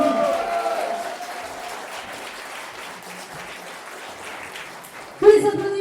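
Audience applause at a Telethon 2024 show, a broad steady wash of clapping under a sustained tone, fading toward the end before music-like sounds cut in.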